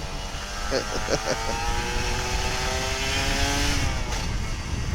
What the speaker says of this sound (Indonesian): Ngegas ya, tetap ngegas bro.